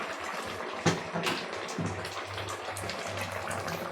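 Freshly picked pumpkin greens are washed under running water, a steady close splash and gush of water with a few sharper knocks and handling sounds, and no talk.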